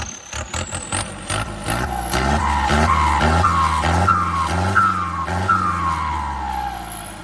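An engine upgraded with a larger turbocharger revs hard through repeated rising bursts, a whistling spool tone climbing and falling over a loud, continuous roar, close by.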